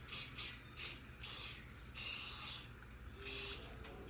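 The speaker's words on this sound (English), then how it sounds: "you could butter them or spray them like I am doing" Several short hissing bursts of aerosol cooking spray onto baking dishes, some quick and some held longer, close to the microphone with brief pauses between them.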